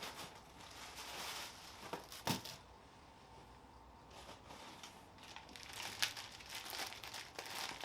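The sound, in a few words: opening Ford Performance parts box, packaging crinkling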